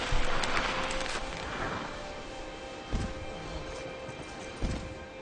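A horse gallops in the Shadow of the Colossus video game, with dull hoof thuds over a steady rushing background and two heavier impacts near the middle and end. No one speaks.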